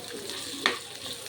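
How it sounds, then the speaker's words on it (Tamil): Chopped onions fry in a pan for an Aurangabad egg fry, a soft, close sizzle with one brief clatter of stirring partway through. "இதை நல்லா கோல்டன் ப்ரௌன் வர வரைக்கும் ஃப்ரை பண்ணிக்கணும்."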